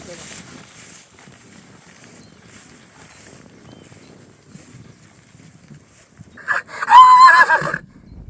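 A horse named Gypsy, of American bloodline, lets out a loud, close whinny near the end, preceded by quieter background noise and faint movement.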